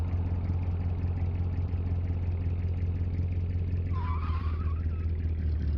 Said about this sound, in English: And now fully on the brakes to see how long it takes to slow down from that speed.